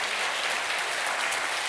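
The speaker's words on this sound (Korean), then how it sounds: "우리 가족들이 나오실 때 한번 힘차게 환영의 박수로 맞이하겠습니다" Congregation at a Korean church Sunday service clapping steadily and loudly to welcome the new pastor's family, a dense unbroken wash of applause with no voices.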